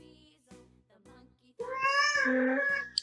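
A pet cat lets out a long, loud meow after a few short spoken phrases from a person nearby, the drawn-out cry rising and holding before stopping abruptly.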